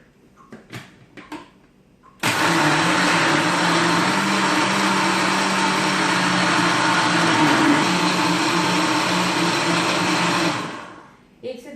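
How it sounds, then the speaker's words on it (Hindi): After a few brief knocks, a blender kicks on with a loud, steady high-pitched whir that runs for about eight seconds, crushing about two cups of ice cubes into a mint slush, then winds down and stops. "अब मैं ब्लेंडर को चलाऊंगी।"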